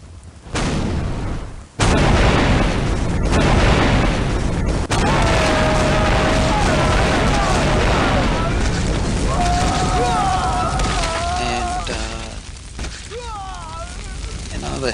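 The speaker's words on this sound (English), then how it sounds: "Another critical hit from the great bombards." Siege artillery in Medieval II: Total War Kingdoms, great bombards and mangonels pounding a Teutonic siege: heavy booming impacts over a dense roar of battle noise, with horn-like tones and distant crowd clamor.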